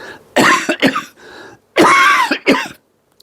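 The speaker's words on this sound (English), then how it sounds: "Excuse my cough." Two bursts of harsh, close coughing, each a cluster of rough hacks with a brief pause between them, then silence.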